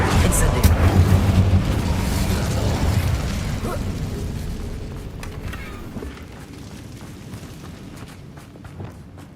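A fire spell, Incendio, cast in Hogwarts Legacy gives a loud burst at the start. The whooshing, crackling blast then slowly fades away while a voice talks underneath.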